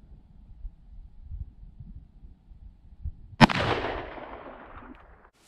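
A single loud handgun shot cracks out after a quiet stretch, followed by a long reverberating boom that fades over about two seconds, heard outdoors at a shooting range.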